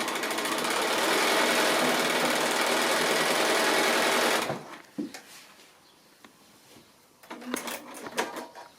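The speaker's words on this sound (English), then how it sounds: "And so now I've got those sewn together." Sewing machine stitching quilt block pieces with quarter-inch seams, a fast steady close whirring burst that stops abruptly, followed by quiet handling clicks and rustles.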